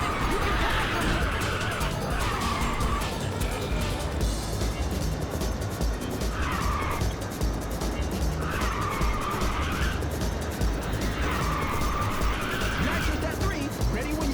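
Car drifting in the PSP game Ridge Racer, with a loud continuous engine roar and repeated long tire squeals as the car slides through corners, under game music.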